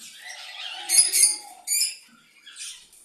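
A breeding pair of pet birds with a newly hatched chick give thin, high chirps and twittering bursts close by, in short clusters separated by quiet gaps.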